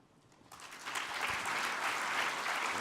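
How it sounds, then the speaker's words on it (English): Audience applause at an AusCERT 2017 security conference talk, starting abruptly after a brief quiet moment and building into steady, sustained clapping from a full room. "Give him another big round of applause"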